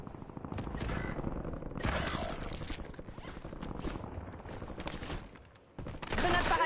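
Gunfire in the battle royale shooter Call of Duty Warzone, with rapid automatic bursts and repeated shots crackling close and loud over a busy game soundscape, broken by a short lull before another heavy volley.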